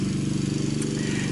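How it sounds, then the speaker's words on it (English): A lawn mower drones steadily in the background outdoors with an even, buzzing engine hum that never lets up. "Sorry for the lawnmower in the background"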